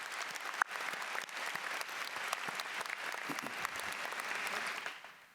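A high school graduation crowd gives a sustained round of applause, dense clapping from many hands at a distance that holds steady for several seconds before fading out.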